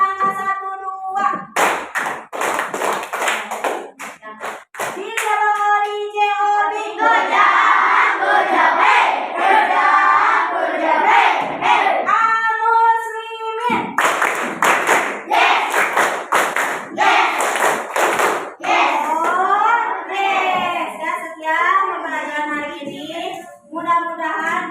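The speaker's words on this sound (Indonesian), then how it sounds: "tepuk angka 1, 2." Classroom of students clapping a counted rhythm pattern in unison, sharp group claps in bursts mixed with shouting voices and chanting, loud and close, with the teacher's voice calling out between sets.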